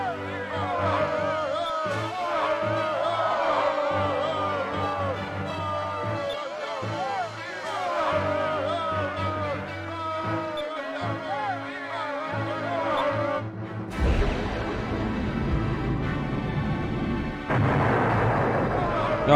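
A big gun fires in the video game Skies of Arcadia Legends, deep booming blasts layered under game music, with a heavy burst near the end and a voice talking over it.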